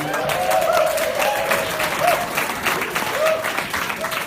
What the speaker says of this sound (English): So let's give a round of applause for Dan.